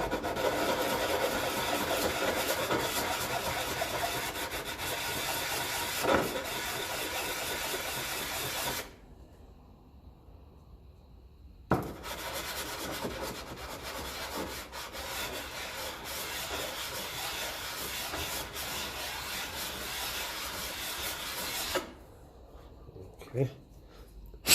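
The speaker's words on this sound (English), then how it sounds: "So I might just give him a quick rub on my" Sanding block rubbed back and forth over the fuel tank tap of a 1954 Ferguson 20 TEF diesel tractor, a steady dense scraping that runs continuously with two short pauses.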